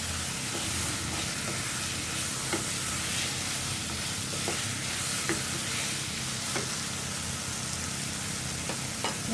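Whole garlic cloves sizzle steadily in hot oil in a pan while being cooked for a fish-bone dish, a continuous close frying hiss with occasional soft stirring clicks and no talking.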